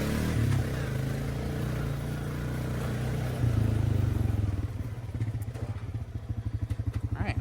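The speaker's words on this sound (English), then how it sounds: "Let's get the Honda Rancher moved out of the way" A Honda Rancher ATV idles and rumbles nearby as it is moved, its engine steady before settling into a slower, pulsing chug.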